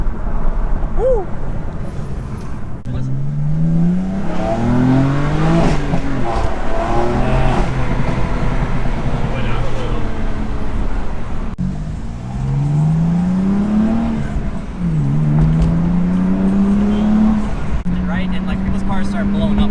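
A BMW, a FBO M235i or Stage 1 M4, revs hard on a ride along, its engine climbing through repeated gear pulls and shifts, loud and close inside the cabin with occupants talking and shouting over it.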